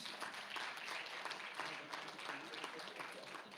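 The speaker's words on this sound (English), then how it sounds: "Please give them a nice round of applause." A school awards ceremony crowd applauds tournament champions steadily, a dense wash of clapping that holds at an even level before easing slightly at the end.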